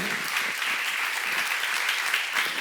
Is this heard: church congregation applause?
yes